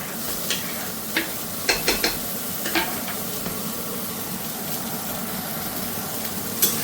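Chopped onion, garlic and ginger sizzle steadily in a pan over medium-low heat, loud and close, with occasional sharp clicks and scrapes of stirring.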